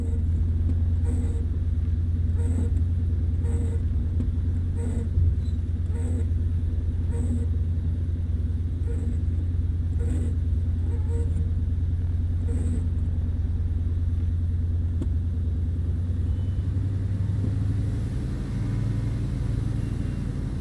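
A de Havilland Beaver's radial engine in Microsoft Flight Simulator drones as a steady, loud low rumble through the whole stretch, with faint rhythmic ticks riding on top and a slight shift in tone near the end.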